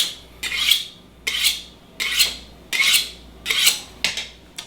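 A kitchen knife drawn through a cheap bar-style sharpener, giving six rasping metallic strokes in a steady rhythm, each a gritty scrape that swells and fades. The strokes are close and loud, with no talking.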